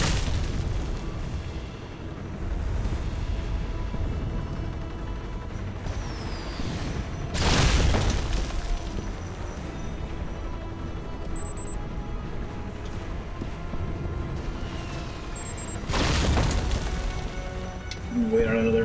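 Missile explosions in Alpha Protocol: two deep, booming blasts about eight seconds apart, with a third swelling near the end, set over a steady low rumble of background noise.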